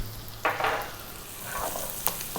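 Garlic and dried thyme fry in a pan while being stirred, a soft, steady sizzle with a few brief louder scraping swirls of the spoon.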